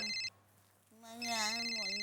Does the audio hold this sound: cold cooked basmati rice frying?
no